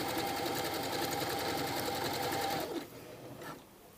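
Sewing machine stitching elastic onto swimsuit fabric, a fast steady mechanical whir and needle clatter that runs evenly, then stops abruptly partway, leaving faint handling noise.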